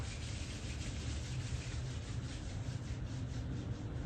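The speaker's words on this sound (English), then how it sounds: "Gently rub the palms together." Palms rubbing together steadily in a quiet meditation setting, a soft continuous broadband friction hiss lasting a few seconds with no pauses.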